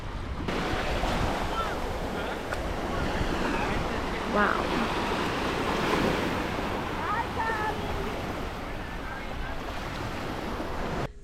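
Ocean waves and wind roar steadily and close at Steps Beach, with the surf washing constantly under a brief spoken exclamation.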